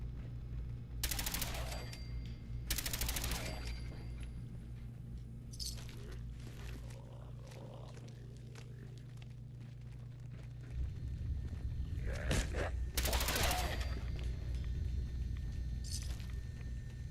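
Rapid gunfire from a video game gun, several loud bursts of repeated shots separated by quieter gaps, over a low constant rumble, with the bursts growing denser toward the end.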